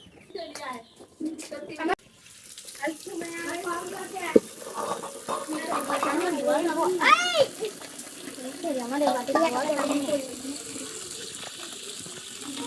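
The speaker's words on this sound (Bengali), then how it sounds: "বন্ধুরা আমার পেঁয়াজগুলো কাটা শেষ, আমি এখন ধুয়ে নেব।" Cut onions are rinsed by hand in water, with splashing and sloshing that swell and fade over several seconds while birds chirp and voices murmur in the background.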